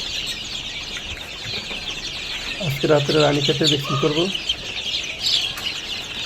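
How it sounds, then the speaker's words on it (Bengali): Native chicken chicks, 21 days old, on a farm, peeping constantly in a high, busy chorus close by, while someone talks over them partway through. "এগুলো হচ্ছে আমার নতুন বাচ্চা, দেশি মুরগির বাচ্চা পিওর।"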